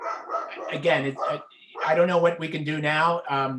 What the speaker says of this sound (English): that's my dog barking his head off here.